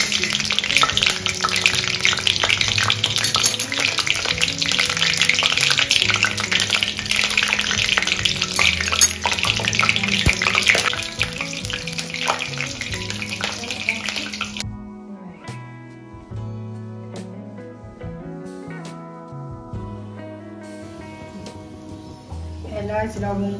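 Whole spices, bay leaf, cinnamon and black cardamom, sizzle loudly in hot oil for mutton kosha, a dense steady frying hiss that drops away partway through, leaving quieter sizzling under faint background music.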